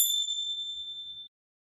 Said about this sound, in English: in between, I will be ringing my bells